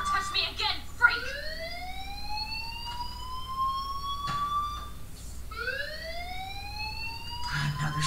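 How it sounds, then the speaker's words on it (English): A fire alarm in the video game Life is Strange wails in two rising siren sweeps, clear and fairly loud, with brief knocks and voices around it. "Pull the fire alarm."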